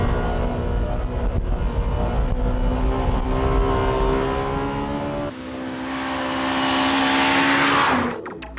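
A Honda Civic Type R lapping a winding test course modelled on the old Nürburgring, its engine droning steadily at high revs. The pitch climbs, shifts, then climbs again toward a rising whine, with tyre noise at the end. No one speaks.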